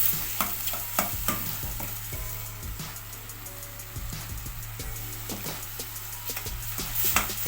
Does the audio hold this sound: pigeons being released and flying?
no